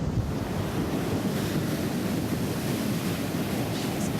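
Sea waves roll and wash continuously, loud and close, mixed with heavy wind buffeting the microphone; no voices.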